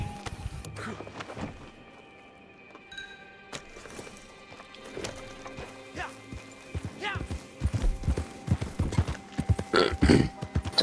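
Horse hooves clip-clop in Red Dead Redemption 2, a rhythmic run of hoofbeats that grows denser and louder over the second half, with a voice talking over parts of it.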